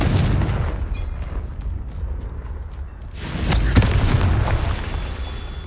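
Explosive blasts from the Confringo spell in a Harry Potter video game, a heavy rumbling boom with crackling debris that surges again partway through, loud and close over a constant low roar.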